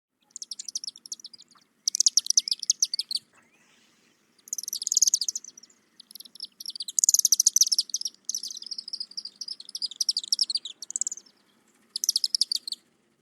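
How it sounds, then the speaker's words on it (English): High-pitched, rapid twittering chips of a chimney swift in short bursts, repeated several times with brief pauses, fairly close and clear with no voices. "Really short, quippy, high-pitched sounds. The chimney swift."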